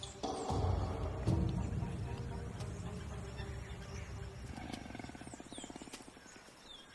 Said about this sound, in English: The Andean Puma.